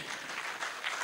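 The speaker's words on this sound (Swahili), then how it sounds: "Tumpigie tena makofi." An audience at a conference claps in a brief, dense burst of applause, heard at moderate distance.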